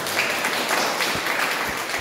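A church congregation applauds together, a steady wash of clapping lasting a couple of seconds at moderate loudness, fairly even without sharp peaks.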